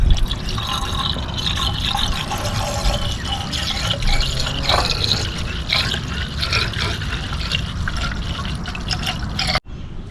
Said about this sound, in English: We put in the coolant in there.